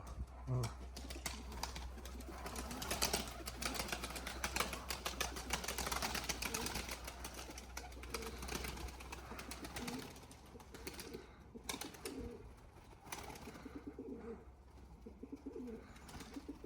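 Young pigeons in a coop cooing in a low, repeated murmur amid a busy, noisy background, with occasional wing flaps and a voice speaking nearby.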